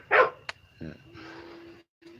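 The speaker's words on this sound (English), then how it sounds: "Tina's dogs are barking at our dogs." A few sharp dog barks and yips, one loud bark up front followed by quieter ones, with a low hum and some background noise.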